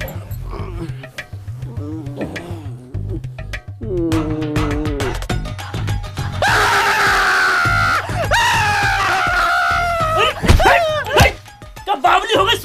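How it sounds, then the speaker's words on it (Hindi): A woman screams loudly and shrilly in a heated domestic quarrel, her cries rising and falling across several seconds and mixed with agitated shouting voices close by. "क्या बावली हो गई, सुबह सुबह चिल्ला रही है?"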